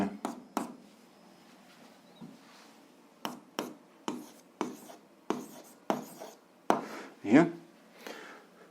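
Pen strokes write out an algebra expression on paper, short scratchy bursts in uneven clusters, close and clear, with a voice speaking between them.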